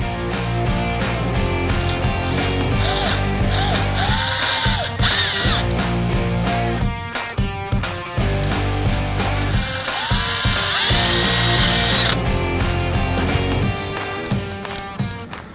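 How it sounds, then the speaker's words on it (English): Stinger screws driven to fasten a vent tube onto a seat ventilation unit, loud close ratcheting and whirring tool bursts that run nearly continuously with brief pauses. "I actually like attaching it mechanically using stinger screws"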